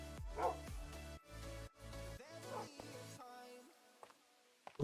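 Dogs in the video game Minecraft, several loud nearby barks and yips in quick bursts, followed by a quieter whimpering tone and a few sharp sounds at the end.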